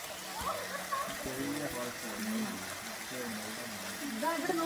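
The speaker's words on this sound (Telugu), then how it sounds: "ఏదో ఒక ట్యాప్లోంచి వాటర్ వస్తున్నట్లుంది అది" Steady, faint trickle of a small waterfall at Muthyala Maduvu near Bangalore, running thin like water from a tap, a continuous soft wash with a voice talking over it.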